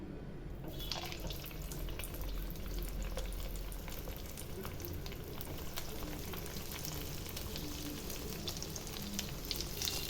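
Banana flower kola balls deep-frying in hot oil over a medium flame, a dense continuous bubbling sizzle that stays steady and fairly loud throughout.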